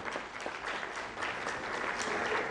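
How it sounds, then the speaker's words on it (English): A crowd applauds steadily, a dense wash of clapping that holds evenly without letting up. "with a standing ovation, round of applause"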